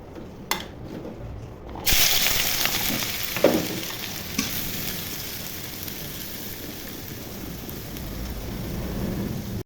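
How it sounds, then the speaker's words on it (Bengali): Chopped onion hits hot oil with a sudden loud sizzle that settles into a steady, close frying hiss, with a few stirring knocks early on. "তেল গরম হয়ে গেছে, এখন পেঁয়াজ কুচি ছেড়ে দিব।"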